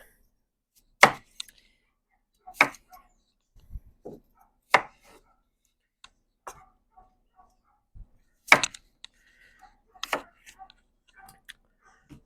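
Knife chopping vegetables for a smoked pot roast meal, cutting smaller pieces in half: sparse, sharp chops on a board at an irregular pace, close and distinct against a quiet background.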